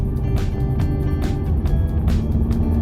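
A Mercedes-Benz engine in sport mode roars steadily at close range, a continuous throaty drone with rising bursts as the car pulls ahead at about 60 km/h; no one speaks.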